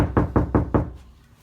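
Four quick, evenly spaced knocks land on a car door panel that has no KilMat sound deadening, loud and close, each a hollow, resonant thump before quiet.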